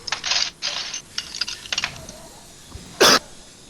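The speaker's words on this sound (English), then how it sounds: "you half coughed directly into the mic" Several short coughs land right on a close microphone in harsh bursts, a cluster early on and then one loud, sharp cough near the end.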